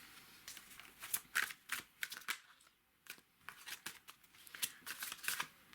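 Tarot cards being shuffled by hand before a card is drawn, a run of crisp riffling and slapping bursts at an uneven rhythm, close and fairly quiet with no voice over it.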